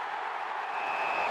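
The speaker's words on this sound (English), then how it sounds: "roar of the crowd" Crowd roar in a footy advert, a brief sustained swell of cheering and applause that holds steady and slightly rises, heard on its own.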